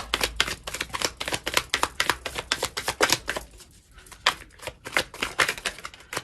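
A tarot deck shuffled and cards drawn, close by: quick runs of crisp papery clicks and riffles that pause briefly midway, then pick up again, with no talking.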